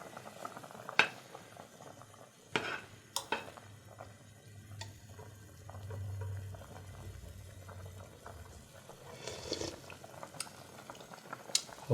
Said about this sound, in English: But now it's boiling, so it's gonna be the final taste.